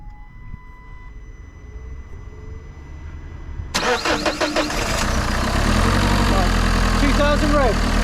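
A Renault Clio dCi diesel with a stuck turbo cranks and catches partway through, then settles into a loud, steady clattering idle close by, with someone talking over it.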